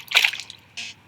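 A Rubik's cube drops into water with a short, close splash and splatter, followed a moment later by a brief second burst of sloshing water.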